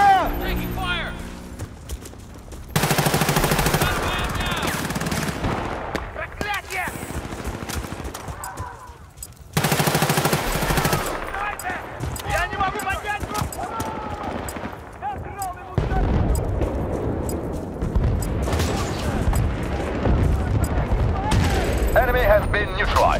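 Bursts of gunfire in the video game Battlefield Bad Company 2 during a Conquest match at Arica Harbor, with rapid volleys and shots under game voices and loud sound effects that cut in and out.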